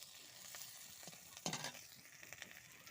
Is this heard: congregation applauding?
no